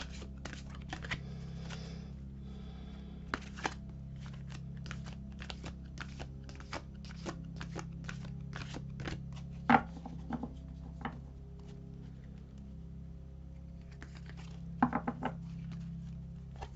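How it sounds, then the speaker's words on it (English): Tarot cards being shuffled by hand: soft papery riffles and taps in irregular bursts with a few sharper snaps, quiet against a steady low background hum, no talking. "shuffle and pull our soul cards"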